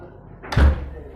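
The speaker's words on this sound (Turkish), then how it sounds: "ben kapıyı kapattım" A door shuts with a single dull thud, close by, over a faint background murmur.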